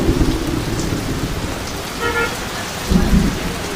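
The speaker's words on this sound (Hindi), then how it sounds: "गाइस बारिश बहुत तेज हो चुकी है" Heavy rain pours steadily and loud, close by, with low rumbles of thunder swelling around the middle and again near the end; no one speaks.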